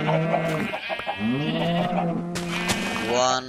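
Sheep bleat in the Minecraft video game, a loud wavering baa that repeats over and over while players talk excitedly over it.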